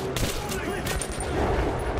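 Sustained rapid gunfire using money bullets in Metro 2033 Redux, a dense rattling burst of shots that runs throughout, loud and close.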